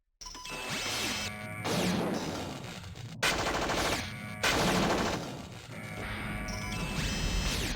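Magnum pistol fire in the 1994 video game System Shock comes in a few sharp, loud bursts separated by brief pauses, each shot trailing into crashing game effects, with no one talking.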